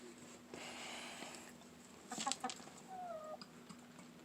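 Chickens cluck softly nearby inside a coop in winter, a few short clucks and a drawn-out call over a steady low hum, fairly quiet with no talking.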